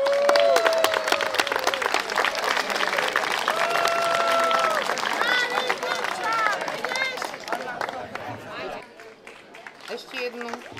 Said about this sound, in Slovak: Ešte jeden veľký potlesk pre tretie miesto družstvo Sestry